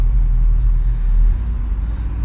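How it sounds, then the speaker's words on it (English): Heavy street traffic outside a hospital parking lot, a loud continuous low rumble of passing vehicles that swells and then eases slightly. "The street is very, very loud today."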